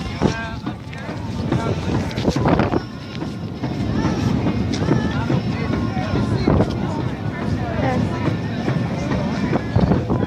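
Cold wind buffets the microphone at an outdoor protest march with a constant low roar and rumble, gusting irregularly, while voices talk faintly beneath it.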